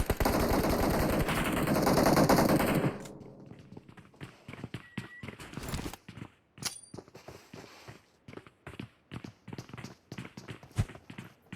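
Gunfire in PUBG Mobile during a league finals match: a loud dense burst of automatic fire for the first few seconds, then a long run of sharp separate shots and taps at irregular intervals, no talk.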